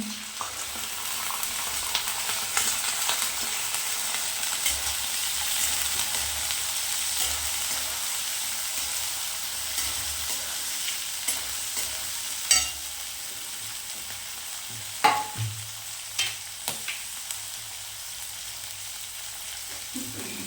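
Green peas are added gradually to hot oil for a vegetable dish, frying with a steady soft sizzle. Sharper crackles and pops break through now and then, mostly in the second half.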